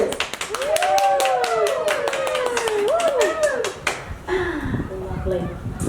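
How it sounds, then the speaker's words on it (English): Wedding guests clapping and cheering for a newly declared couple, dense close applause with rising excited whoops and shouts over it, fading to scattered claps and chatter. "Please clap and cheer for our new Mr."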